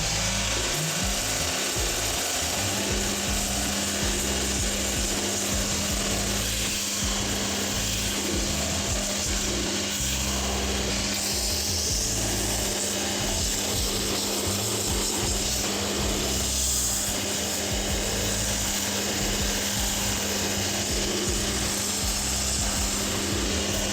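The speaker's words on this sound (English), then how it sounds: "we're going to burst all these old stitches using the sander there" A power sander grinds along the sole of a boot to burst its old stitches, a continuous loud abrasive rasping over a steady motor hum that lasts throughout, with shifting scraping texture as the work moves.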